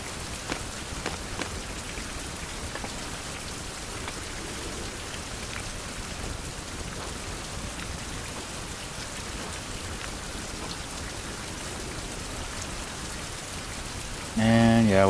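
Steady rain falls in a survival video game set by the sea, a constant even hiss of drops on surfaces running throughout, with a louder burst of noise right at the end.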